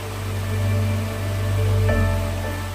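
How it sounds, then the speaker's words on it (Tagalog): Steady rushing of a mountain waterfall and flowing stream at dawn, a continuous broad wash of water noise that swells gently, heard alone with no voices. "Madaling araw, naririnig lang namin is yung agos ng tubig, yung falls"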